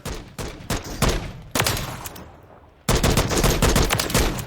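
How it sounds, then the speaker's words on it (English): Rapid semi-automatic gunfire in Call of Duty: Modern Warfare III Warzone comes as bursts of sharp, loud shots in quick succession, broken by brief pauses, then a dense closing volley. "You can spam fire it faster than you can full auto."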